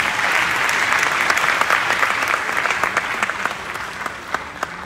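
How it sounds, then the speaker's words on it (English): Sustained, dense applause from a large audience after a presentation on reforming the Ghana Police Service, loud and steady with no voices over it for about five seconds. "A round of applause again."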